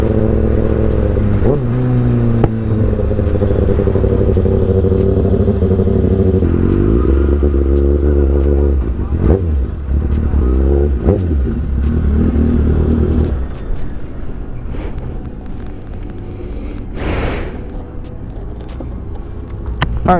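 A motorcycle rides along a road with its engine rumbling loudly and steadily close to a helmet-mounted action camera, pitch rising and falling as it accelerates and shifts, easing off toward the end.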